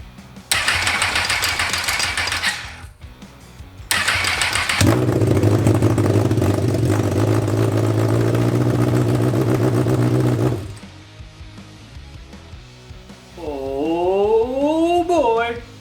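Homemade Formula One race car engine cranks and catches, then runs loud and steady for several seconds before cutting out, followed by quieter sputtering and a rising whine near the end.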